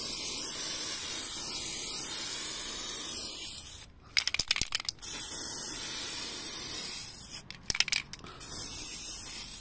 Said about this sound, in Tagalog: Maganda sa spray kasi mabilis gamitin.